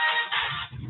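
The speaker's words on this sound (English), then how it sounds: "phone started to ring" A mobile phone ringtone gives a bright, steady electronic tone for about a second. It sounds fairly loud and close, and no one talks.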